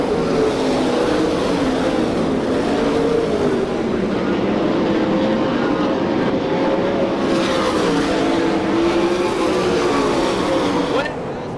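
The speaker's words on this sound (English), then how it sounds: "Jared Hall now approaching the lap car of Scott Bunnell." Sprint cars of the All Star Circuit of Champions roar around an oval dirt track at Hartford, Ohio, a steady droning pack of engines with rising and falling pitch as cars pass, under a race announcer's commentary.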